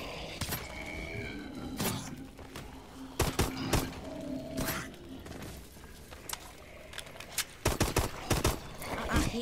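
A pistol fires in Call of Duty: Advanced Warfare Exo Zombies, with sharp, loud shots in scattered clusters and rapid pairs over a noisy game background.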